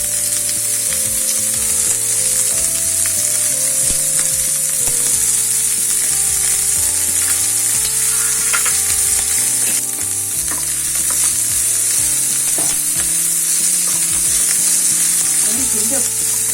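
Sesame oil sizzles steadily in a pan with a continuous crackling hiss and occasional stirring clinks, close up and with no voices.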